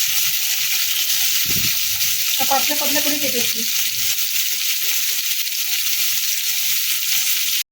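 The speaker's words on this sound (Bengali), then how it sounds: "তেলটা গরম হয়ে গেছে উচ্ছেগুলোকে দিয়ে দেবো" Steady, loud sizzling of bitter gourd frying in hot oil, continuous throughout, with a person briefly talking over it.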